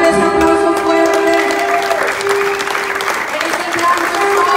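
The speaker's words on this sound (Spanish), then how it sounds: "Dale ese aplauso fuerte." Applause at a Spanish-language worship service rises over sustained music with held tones, the clapping a loud, continuous wash amid voices.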